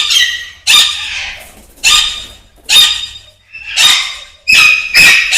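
Parrots at a breeding nursery give loud, harsh squawks close by, about six separate shrill calls in an uneven rhythm with near-silent gaps between them.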